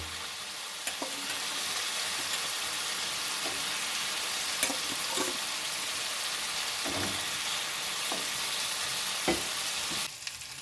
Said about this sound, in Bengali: ডিমের অমলেটগুলো আমার মশলার সঙ্গে ভালোভাবে নাড়াচাড়া করে নেওয়া হয়ে গেছে।